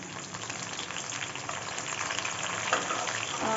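Tomato added to fried taro sizzles steadily in a pan, a continuous frying hiss that swells a little as it goes, with no voices.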